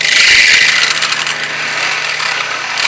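A rotary burr drills into a sculpted head's skull, making a loud, high-pitched continuous whine that holds steady throughout.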